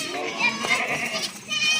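A Rajanpuri goat with its kid bleats in short, wavering calls amid lively background chatter and children's voices, with someone talking close by.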